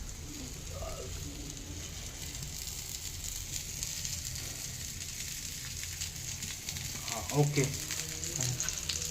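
Chicken pieces on the bone frying in oil, a continuous bright sizzle with occasional crackles, while a voice speaks briefly in the background.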